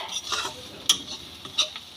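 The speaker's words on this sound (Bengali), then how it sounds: "চিনি ও নুন দিয়ে সুজিটা খুব ভালো করে সবজির সঙ্গে ভেজে নেব" Semolina being fried with vegetables in a pan, giving soft scraping and stirring sounds with a couple of sharp metallic clicks from a spoon against the pan.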